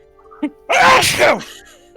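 A single loud, close sneeze bursts out after a brief sharp intake of breath, then fades into quiet.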